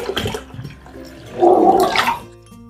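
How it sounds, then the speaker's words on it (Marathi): Water gurgles and splashes into a bowl of wheat grains in one brief, loud pour, close up, tapering off at the end. "आता याच्यामध्ये पाणी टाकते"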